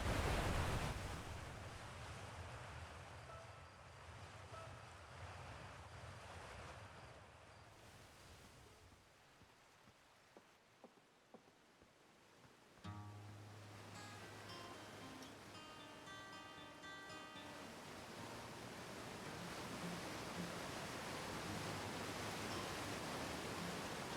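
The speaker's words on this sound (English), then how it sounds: "The loudest waterfall of my entire life." A loud waterfall in the video game Outer Wilds roars as a dense, continuous rush of water noise, steady and enveloping, with a brief dip before swelling back, and no talking.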